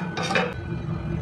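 A metal lid being set on a pot of mackerel curry gives a quick close clatter and clink of cookware, followed by a low background hum.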